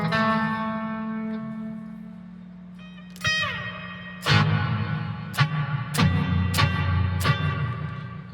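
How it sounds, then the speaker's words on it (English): A Marshall Mode Four MF350 guitar amplifier being restored, its reverb set drippy: a sustained electric guitar chord rings out, then sharp picked chords and string hits splash into a wet, lingering reverb tail. "That's a pretty drippy reverb."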